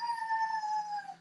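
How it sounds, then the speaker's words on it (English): A neighbouring dog howls or barks from next door, a single drawn-out tonal cry that sounds faint and distant, with no talk. "she can hear Simba barking next door"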